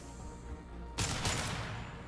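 Concussive shot ability fired in Mass Effect 2, a single sudden loud blast about halfway in that cuts through quiet game ambience, followed by a second burst and a decaying rumble.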